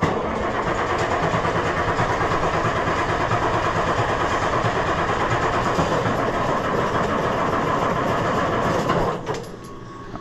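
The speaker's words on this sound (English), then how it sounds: "Perhaps we should pull the fuel stop out and crank it a minute." An Oliver 1850 tractor engine cranks over in a loud, steady, grinding churn close by for about nine seconds before stopping abruptly.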